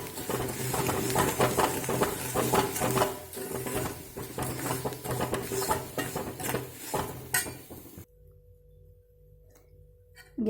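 Drumstick leaves being stirred and roasted in a pan for a salt mix, with steady scraping and rattling of a utensil against the pan for about eight seconds before the sound drops to near silence.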